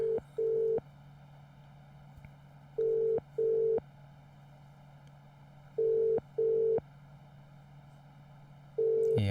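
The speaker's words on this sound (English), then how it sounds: "I'm gonna give my man Jeevan a call" Outgoing phone call tone heard while waiting for an answer: paired beeps in an even repeating pattern over a steady low hum on the line, fairly quiet and alone.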